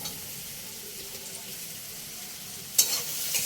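Chopped green chillies, capsicum and tomato frying in a pan give a soft, steady sizzle near the mic, then a sudden louder burst of stirring and scraping near the end.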